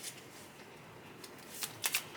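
A deck of fortune-telling cards being shuffled by hand, with soft riffling rustles that build into a few sharper, louder card flicks near the end; quiet and close, with no talking.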